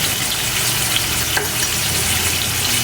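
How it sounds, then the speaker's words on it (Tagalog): Fish frying in a cooking pan, a steady, loud, dense sizzle and crackle of hot oil running throughout with no talking. "habang piniprito natin itong fish natin"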